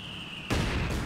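Mortar fire and explosions in Company of Heroes 2, a sudden loud blast of battlefield booms and crackling impacts erupting after a brief quieter stretch.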